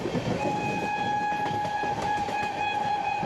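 Loud, continuous rail roar from the Gangasagar Express with LHB coaches speeding through Barrackpore at around 60, with dense wheel-on-track clatter and a steady high tone running through the whole stretch.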